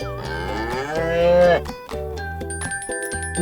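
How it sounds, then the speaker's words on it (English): A cow moos several times in a row, loud and close, with long drawn-out lowing calls and no other sound around them. "A cow says, moo, moo."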